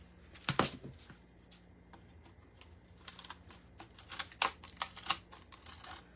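Cuts from Hart scissors: a quick cluster of crisp snips close by, followed after a quiet pause by a second run of sharp, irregular clicks and snips, with no voices.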